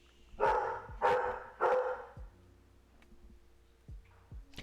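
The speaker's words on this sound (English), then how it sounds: "Well, that was a rare Lucy barking at something in the driveway." A dog barks three times in quick succession at something in the driveway, fairly loud and close, followed by quieter thumps and ticking noises in the background.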